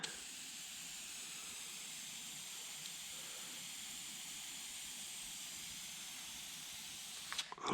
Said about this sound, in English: Sounds like my can's sputtering.